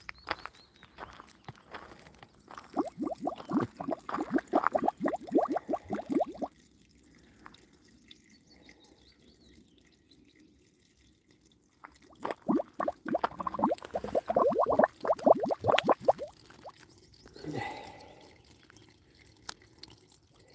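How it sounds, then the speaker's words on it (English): Water bubbling up from a pipe at a holy well in north-east Cork, heard in two long bursts of rapid gurgling and dripping, separated by a quiet gap, then a fainter splash near the end. "This pipe there, that's what's doing the bubbling."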